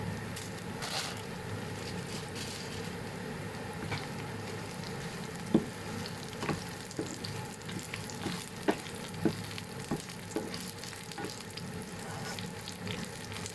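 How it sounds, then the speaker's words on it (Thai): Dried chilies frying in oil with shallots and garlic: steady, crackling sizzle throughout, with scattered sharper pops and a few stirring clinks, close and fairly loud. "ทอดรวมกับ หอมกระเทียมนะคะ"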